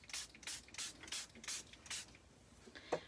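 Short bursts of ruby red craft ink sprayed onto a messy art background, about six hissing puffs in a loose rhythm, close and clear, with a small knock near the end.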